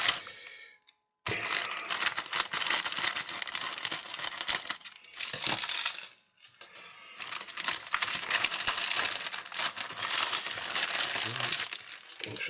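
Plastic parts bag from a Revell 1/48 Spitfire Mk.IXc/XVI model kit being handled and opened, with loud close crinkling and rustling in long bursts separated by short pauses, and a voice speaking at times.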